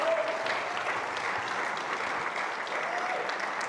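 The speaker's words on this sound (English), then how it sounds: "Adam, Min, Sosi, give these guys a round of applause" An audience at a sales training event gives a round of applause, a dense, even wash of clapping that is fairly quiet and continues steadily throughout without talk on top.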